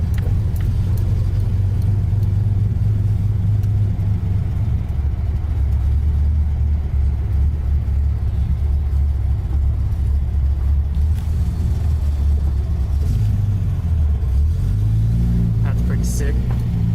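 Cars, including a Porsche and a Toyota Celica, cruise along a street toward a meetup, with a continuous loud engine rumble and occasional revving. A person talks over the engines throughout.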